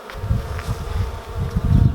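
Honey bees buzz at a beehive, a close, dense droning hum that swells and dips as individual bees pass nearby.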